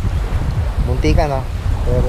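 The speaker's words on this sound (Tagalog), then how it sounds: "Sarap ng hangin." Wind buffets the microphone while riding a motorcycle along the coast near Faelan Beach in Batangas City, a loud, constant roar as a person talks over it.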